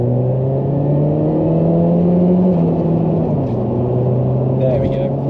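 A Saab 9-3 Aero pulls hard in second gear, its engine drone rising steadily inside the cabin, then dipping briefly as the revs fall around a gear change. Faint cabin noises sit under the engine.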